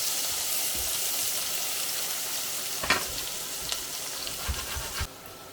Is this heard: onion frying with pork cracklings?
yes